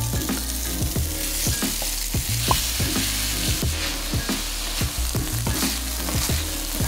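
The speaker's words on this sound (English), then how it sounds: "Once the pan is hot, we start by browning our sausage." Sausage browns and sizzles in hot ghee in a pan, a steady, fairly loud frying hiss with regular soft clicks and scrapes of stirring throughout, and no talking.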